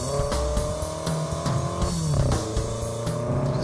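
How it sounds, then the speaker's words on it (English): A 2011 BMW X5 M SUV runs hard around a race track, its engine droning loud and steady with shifting revs and faint tire noise throughout, close to the car. "First up, the BMW X5M."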